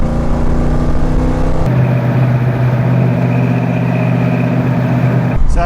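A classic automatic Ford Mustang with a MagnaFlow exhaust rumbles close by, loud and continuous, its steady droning tone shifting to a deeper, throatier note partway through, with no talking.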